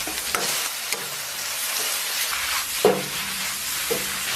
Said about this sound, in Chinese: 切好的牛肉下到锅中，香菇丁下到锅中翻炒